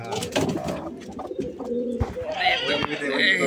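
Native pigeons in a rooftop coop coo repeatedly and close by, low throaty calls recurring over other background sounds.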